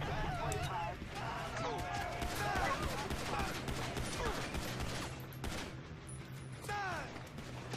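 Bursts of rapid gunfire crackle through a busy, continuous mix of GTA 5 game sounds and effects, with sharp shots scattered across the whole stretch.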